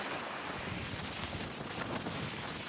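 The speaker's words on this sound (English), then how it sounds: "Very windy." Strong wind blows across an open beach in the Outer Hebrides, buffeting the microphone with a constant rough rumble and hiss, no voices.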